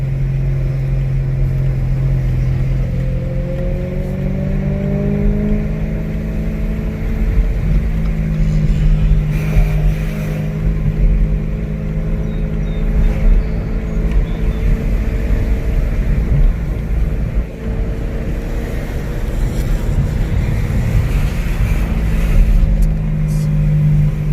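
Supercharged BMW E92 M3 engine revving while driving, loud and close, with rising and falling engine tones climbing through the gears over steady road and wind rumble.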